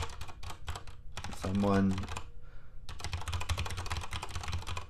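Keys clacking steadily on a keyboard, a mechanical keyboard compared with an Apple wireless keyboard, with dense rapid typing before and after a brief pause where a person speaks.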